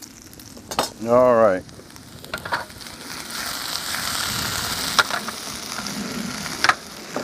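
Fat sizzling as it cooks outdoors over a gas flame, a steady soft frying hiss with occasional clinks of utensils, preceded by a brief tonal mechanical whine; someone speaks briefly.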